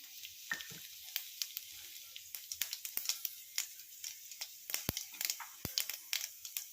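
Tempering spices for egg pulusu crackle and spit in hot oil, a dense sizzle with frequent sharp pops scattered throughout, close and fairly quiet.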